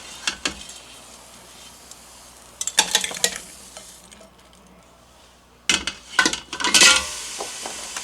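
Freeze-dried hush puppies being dished out, with a few scattered clinks and scrapes of utensils and dishes in short bursts against quiet background.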